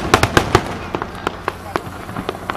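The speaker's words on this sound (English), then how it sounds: "We got some awesome cloud coverage on the fireworks in action right now" Fourth of July fireworks pop and crackle under storm clouds, a quick cluster of sharp bangs followed by scattered, fainter reports spread out across the sky.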